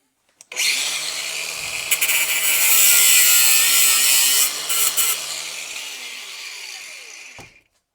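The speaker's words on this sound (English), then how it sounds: "Let me find my grinder." A power grinder whines up and bites into metal on a Velocette motorcycle part, a loud high-pitched continuous screech lasting several seconds before spinning down and stopping.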